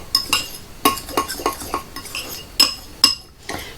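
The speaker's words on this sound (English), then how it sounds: "So that is all of our spices. I'm going to mix these up." A spoon clinks and scrapes against a bowl while spices are mixed for a blooming onion, a close run of quick taps and stirring strokes in an uneven rhythm, with no talking.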